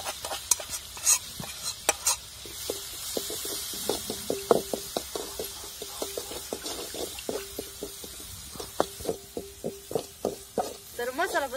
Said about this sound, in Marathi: तर मसाला पण चांगला परतलेला आहे